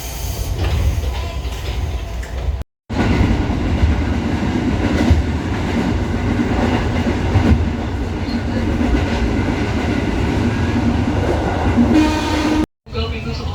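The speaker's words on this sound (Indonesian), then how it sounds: "Selanjutnya kereta Anda akan diberangkatkan kembali menuju stasiun akhir Jakarta Kota." A KRL commuter train bound for Jakarta Kota rumbles steadily through a station, its low mechanical drone continuing throughout with faint rattling, interrupted by two brief silent gaps.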